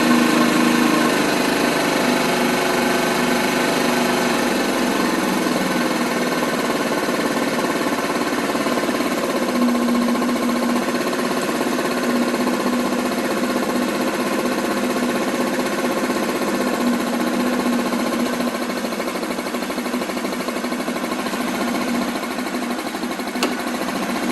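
A moped engine idles while its idle is adjusted, a loud, steady buzzing drone that holds fairly even throughout with a slight drift in pitch and no speech.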